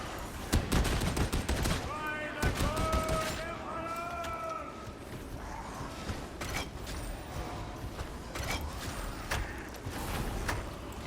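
An Ogryn's heavy gun fires in Darktide, rapid bursts of booming shots close up in rough strings, mixed with clanking mechanisms and game noise while someone talks over it.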